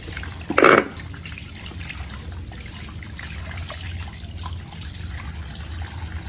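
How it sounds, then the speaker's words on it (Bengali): Fresh pabda fish are rinsed in water in a kitchen. There is one brief, loud splash early on, then a faint, steady trickle and dribble of water that continues quietly. "চলো মাছটা এখন ধুয়ে নেবো ধুয়ে নিয়ে পরিষ্কার করে নিয়ে"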